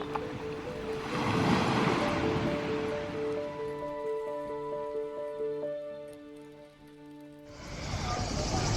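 Waves wash onto a beach in Greece, surging loudly at the start and again at the end, with a steady tonal hum carrying through the quieter middle.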